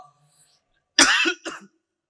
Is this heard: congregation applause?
no